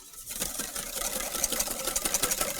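Egg yolks whisked briskly in a bowl for hollandaise sauce, a fast steady run of rattling, clicking strokes that builds slightly in intensity, heard close with no voices.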